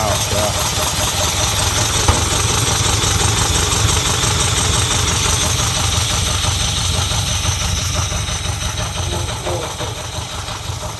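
A 1979 Ferrari 308 engine idles loudly and steadily right after its first start, giving a rough, continuous rumble, while a voice is heard talking.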